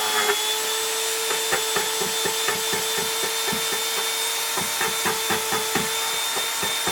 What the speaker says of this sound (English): So I'm going to go to the Dremel. I shouldn't have to grind them off all the time, but I'll just do some more grinding